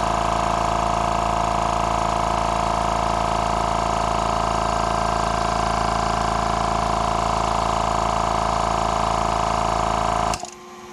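A GSPSCN portable air compressor runs while it inflates a car tire, making a loud, steady mechanical drone and hum that continues without a break and then cuts off abruptly at the very end.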